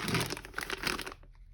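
Plastic packaging around car suspension bushings crinkles and rustles close by in a short burst of crackling handling, then falls quiet.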